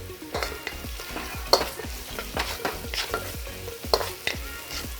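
Vigorous stir-frying in a wok, with repeated rhythmic scrapes and tosses of a utensil against the metal over a steady sizzle, close and fairly loud, with no talking.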